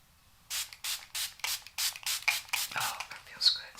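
About nine quick hissing bursts of a fine makeup setting spray mist in a steady rhythm, close up, with no talking.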